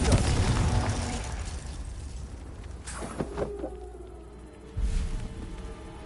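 A Confringo fire spell goes off in Hogwarts Legacy, a loud blast that trails into a long rumbling decay, followed by a second burst a couple of seconds later.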